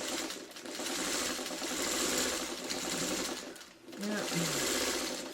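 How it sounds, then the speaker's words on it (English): Sewing machine stitching a quilt block, a continuous buzzing run that briefly pauses and resumes, close and fairly quiet, with a few words spoken faintly over it. "my sewing machine probably needs good cleaning"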